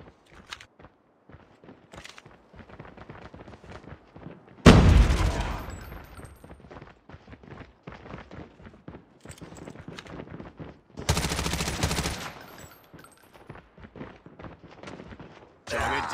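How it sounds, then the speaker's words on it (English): Gunfire from a deployed sentry gun in the video game Call of Duty: Mobile comes in two loud, sustained bursts of rapid automatic shots, with quick footstep-like ticks and fainter shots between them. "Sentry gun deployed."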